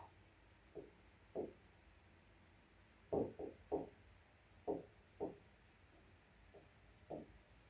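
Chalk or a marker scratches across a board during a classroom lesson in short separate strokes, some quick and paired, fairly faint in a quiet room.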